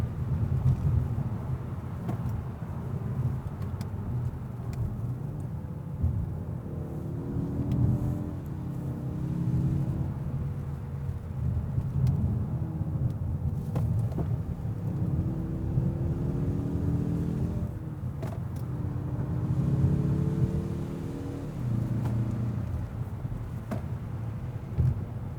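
A 2021 Mazda3 Turbo AWD on a point-of-view drive: a steady, moderately loud engine drone with shifting tonal bands as it accelerates, under constant road and wind noise, with no talking.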